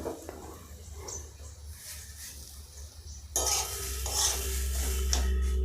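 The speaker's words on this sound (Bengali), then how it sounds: "এবার ভালো করে নেড়ে আমরা এটা ভেজে নেব, হালকা ঝুরঝুরে করে নেব।" Semolina for upma being stirred and dry-fried in a pan, with soft repeated scraping and light sizzling close by that grows denser and louder in the last couple of seconds, with no talking.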